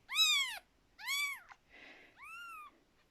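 A cat meows three times in clear, close, separate calls, with a short soft rustle between the second and third.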